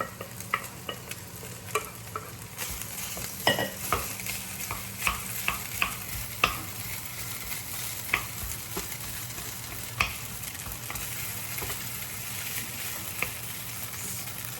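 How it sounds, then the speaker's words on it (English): Pork belly and leftover rice stir-frying in a pan, an even crackling sizzle punctuated by frequent sharp scrapes and taps of a spatula tossing the rice, close and with no talk. "I'm just going to add in the rice, stir fry here"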